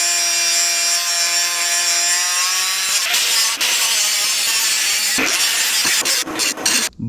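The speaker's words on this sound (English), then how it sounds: "now it's time to cut this tab off" A power cutting tool grinds through a metal tab on a car during a supercharger install, its loud buzz starting with a tonal whine and then turning rougher and grittier as it bites in, with a few sharp jolts near the end.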